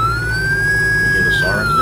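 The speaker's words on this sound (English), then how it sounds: "Can you hear the sirens now?" A police siren from a Dodge Charger SRT Hellcat cruiser mod in Farming Simulator 22 wails loud and close in a smooth rising and falling tone over a low engine rumble.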